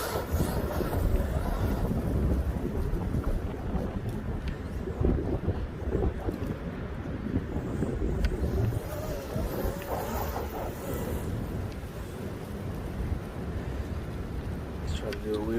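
Strong outdoor wind buffeting the microphone, a loud, continuous low rumbling roar with gusty swells that never lets up, while people talk over it.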